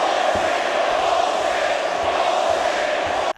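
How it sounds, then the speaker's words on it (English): A WWE Royal Rumble 2015 arena crowd in Philadelphia chants for Roman Reigns, a loud, sustained roar of massed voices that holds steady throughout before cutting off abruptly. "everybody in the crowd starts chanting for Roman Reigns"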